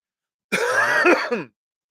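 A single throaty cough and throat clearing, close and loud, lasting about a second with a rough, gravelly texture.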